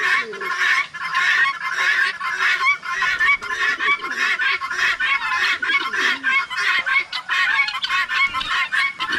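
Farm poultry call noisily and continuously, with geese honking and chickens clucking in an overlapping, busy chorus.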